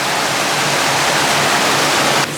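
Water pouring into a canal lock through closed paddles, a loud steady rushing roar that fills the space and continues unbroken, close by with no voices.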